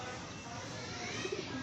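A pigeon coos softly a few times after rain, low and muffled beneath steady broadband background noise.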